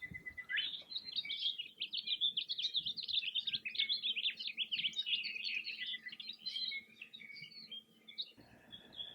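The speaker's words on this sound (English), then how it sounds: "Two North American introductions, the northern cardinal and the house finch, are most often heard rather than seen." Songbirds in a Hawaiian forest, such as an introduced northern cardinal and house finch, give a continuous run of bright, rapid chirps and warbling song phrases lasting several seconds, fairly close and clear over a quiet background.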